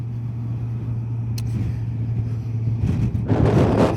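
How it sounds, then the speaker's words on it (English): A lorry drives along the road just ahead of a cyclist, giving a steady low engine hum with a droning tone, then a louder rush of noise building near the end as it pulls away. "I think we best pull in behind this lorry."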